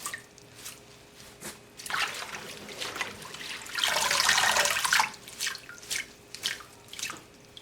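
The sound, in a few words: parsley being swished in water in a sink to wash it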